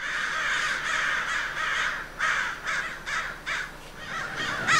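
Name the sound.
crow cawing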